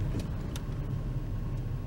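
A car on a commute to work drives along the road, a steady low rumble of engine and tire noise heard from inside, with a couple of brief clicks over the drone.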